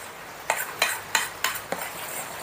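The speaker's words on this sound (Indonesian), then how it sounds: "Oke, kita aduk lagi sebentar teman-teman." Cake batter mixed with melted margarine being stirred in a bowl, five distinct scraping strokes at an even rhythm, close and fairly loud over a quiet background, with no talking.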